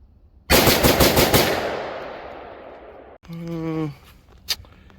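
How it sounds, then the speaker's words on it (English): A Bushmaster HBAR rifle fires a rapid magazine dump of about six loud, close shots in a fast burst, echoing away, followed by a short mechanical rattle and one sharp click. "stand at like 5-ish yards, like real close, and mag dump this shit. We're gonna do like 5-6 rounds."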